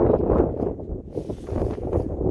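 Steady gusting wind buffets the microphone on the summit of Mt. Katahdin with low rumbling noise, continuous and fairly loud, with no one speaking.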